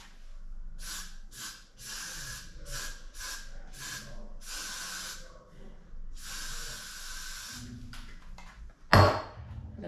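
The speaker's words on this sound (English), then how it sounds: "Spray one more time with the Got To Be spray." Got To Be spray sprayed onto wig lace in a series of short, close hissing bursts with brief pauses between them, followed by a longer spray and one sharp louder burst near the end; no talking.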